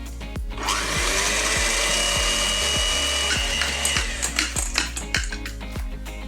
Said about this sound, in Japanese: 氷水に当ててミキサーで泡立てていきます。